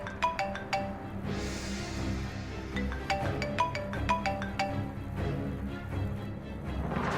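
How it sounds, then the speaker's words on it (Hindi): An incoming call on a mobile phone sets off a ringtone: bright, bell-like tones repeat in a quick melodic pattern over a low background hum. The ringing plays on for several seconds with no voices. "अंजलि के मोबाइल पर पिंटू का कॉल"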